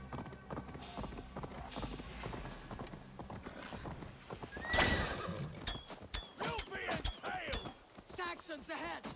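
Horse hooves clip-clopping and a neigh in a Viking-era action video game, with rhythmic hoofbeats, clanking mechanisms and a loud whinny midway, under speaking voices.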